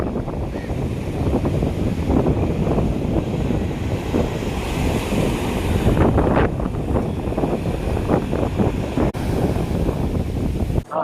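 Sea waves crash and roll at Kanyakumari beach, making a loud, continuous surf roar with heavy wind buffeting the microphone and a few sharper splashes midway.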